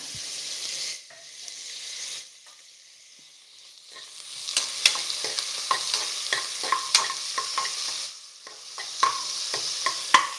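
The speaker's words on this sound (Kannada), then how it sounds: "ಟೊಮೆಟೋನ ಒಂದು ಹಚ್ಕೊಂಡಿದ್ದೀನಿ ಅದನ್ನು ಸಹ ಈಗ ಸೇರಿಸ್ಕೊತಾ ಇದ್ದೀನಿ" Chopped tomato sautéing in a pan for a simple leafy-greens saaru, a steady soft sizzle with pauses, then repeated clicking scrapes and taps of a spoon stirring, close and without talk.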